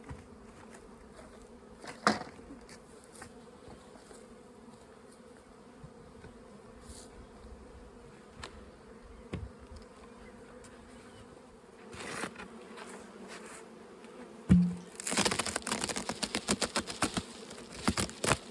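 Steady buzzing of many honey bees around a small salvage hive being merged with a nuc, with occasional closer bees passing and a louder burst of handling clatter near the end.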